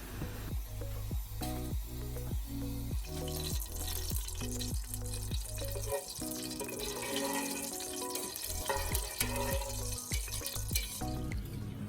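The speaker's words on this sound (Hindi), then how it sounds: "मैंने 3 टेबलस्पून भर के घी लिया है और उसमें 1 टेबलस्पून काला ज़ीरा डाल के मैं 2 मिनट के लिए उनको भूनूंगी।" One tablespoon of black cumin seeds frying in three tablespoons of ghee for cumin basmati rice gives a steady, crackling sizzle that runs throughout, heard beneath tonal background music.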